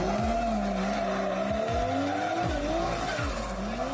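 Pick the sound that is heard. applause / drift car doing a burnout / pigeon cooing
drift car doing a burnout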